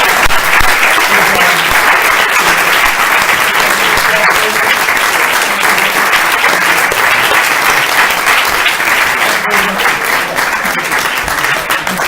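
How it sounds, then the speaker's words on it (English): Sustained audience applause at a climate forum in a New Hampshire fellowship hall, a loud, even wash of many hands clapping throughout with no letup. "Let's have another round of applause."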